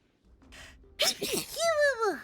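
A single sharp human sneeze bursts out after a short breathy intake, loud and close, followed right away by a voice speaking.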